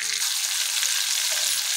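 Onions frying in a pan after prawns have been cooked and set aside, giving a loud, steady, hissing sizzle with a couple of faint low knocks at the edges, no talking.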